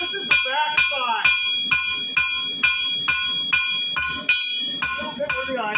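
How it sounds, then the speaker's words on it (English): A ball peen hammer strikes hot metal on an anvil while a horse head is being forged, giving about a dozen close, bright ringing blows in a steady rhythm with no talk. "I'm going to take my ball peen now, and I'm going to work the jaw line out."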